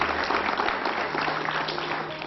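A dense wash of applause from a television studio audience, steady and fairly loud throughout, with a faint voice mixed in.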